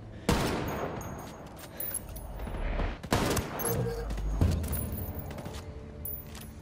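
Gunfire rattles through a firefight in the tactical shooter Ghost Recon Wildlands, with loud bursts and single sharp shots repeating close by over ongoing game ambience and no talk.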